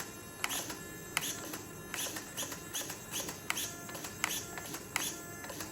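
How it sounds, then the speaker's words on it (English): A digital throttle servo on a KM Baja 5B RC car whirs in a series of quick, short buzzing bursts, faint and close, roughly one every half second with small clicks. "Now this is digital servo. Brake, working fast."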